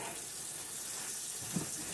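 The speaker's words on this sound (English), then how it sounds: "Let me start filling this sink up with water. Cold water." Cold tap water runs into a sink as it fills, a soft, steady hiss of flowing water heard faintly and continuously for the whole stretch, with no voices.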